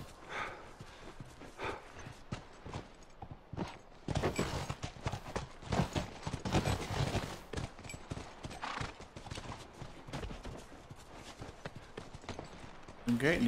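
Horse hooves clip-clop on a ranch in the video game The Last of Us, moving in an uneven rhythm that swells louder mid-clip, with a horse whinnying and a voice talking over it.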